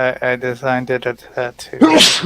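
Speech runs for about a second and a half, then one loud, sharp sneeze bursts out close to the microphone at the end.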